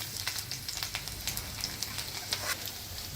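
Finely chopped garlic fries in hot oil with black cumin seeds in a pan, giving a steady close sizzle with small crackling pops and no voices.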